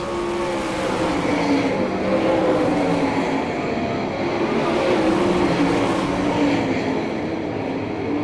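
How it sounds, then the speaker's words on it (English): Sprint cars race on a dirt oval during an All Star Circuit of Champions Ohio Speedweek B main in Hartford, Ohio, a loud continuous roar of engines droning steadily, with no voices. "White flying out, 1 lap to go for Seaver in a 36S."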